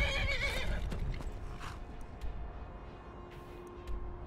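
A horse whinnies loudly near the start in Skyrim, with fainter hoof clops and game ambience continuing underneath.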